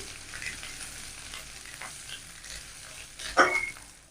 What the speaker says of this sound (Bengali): রসুন কটা দিয়ে দেবো বাটা এটা একটু নেড়ে সেরে নিই